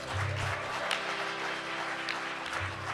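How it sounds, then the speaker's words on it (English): Audience applause at a live Krishna devotional music event at ISKCON of DC, a steady wash of clapping filling the room over faint lingering low instrumental tones. "Let's have a round of applause for Ed Fitzpatrick on bass guitar"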